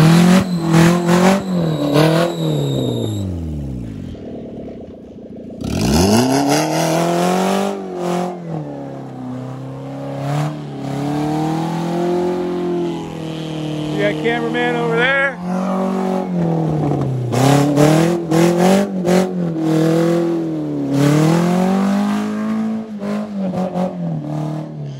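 A car with a manual transmission is driven with its engine revving up and down in repeated swooping surges. People talk over it throughout, and there is a short quieter gap near the start.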